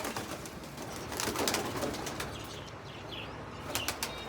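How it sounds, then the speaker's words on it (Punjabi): Pigeons coo softly and flap their wings in a loft, with a burst of wingbeats near the middle and scattered rustling and bird noise throughout. "ਮੈਂ ਕਬੂਤਰ ਦਿਖਾਉਣਾ ਤੁਹਾਨੂੰ"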